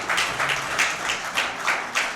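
An audience at a speedrun tournament, in-person top-eight bracket, applauding steadily with a bright wash of many hands clapping at once, close and moderately loud, with faint talk beneath.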